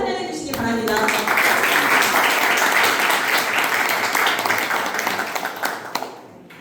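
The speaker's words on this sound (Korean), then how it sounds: "여러분 큰 박수로 환영해 주시기 바랍니다" A lecture audience at a Democratic Party Cheongju Heungdeok district committee talk on carbon neutrality and energy transition claps loudly to welcome the speaker, a dense, steady applause lasting several seconds before fading out, with a brief voice at the start.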